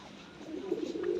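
A fancy pigeon gives a soft, low coo that rises over a second, fairly close and alone.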